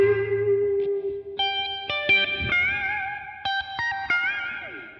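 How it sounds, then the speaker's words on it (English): Clean Stratocaster electric guitar notes swirl through flanger, chorus, phaser, delay and reverb, each note ringing and repeating with echo and shimmering, sweeping tone over a sustained chord. "you can hear there's lots of flanger and chorus and phaser going on there, and delay, and reverb"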